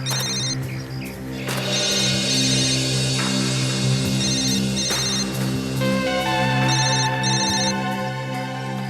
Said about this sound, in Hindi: डॉक्टर सोनाली का मोबाइल फोन